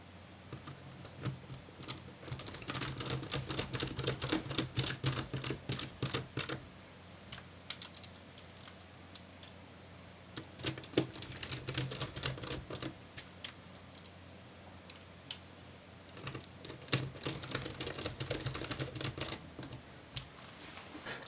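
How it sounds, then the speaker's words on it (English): Screws being refitted into the hinge area of a Dell Inspiron 16 laptop: a quiet, close, steady patter of small clicks and ticks from a precision screwdriver, coming in several runs with brief pauses. "We then close back up the hinge and refit the 3 screws."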